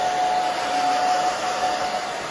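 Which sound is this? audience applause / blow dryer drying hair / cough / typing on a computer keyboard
blow dryer drying hair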